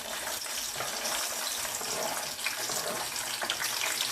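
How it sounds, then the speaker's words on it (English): Chicken gizzards being washed under a running kitchen tap, a continuous hissing splash of water with small irregular spatters, fairly close and steady, with no voices. "I was washing my gizzard"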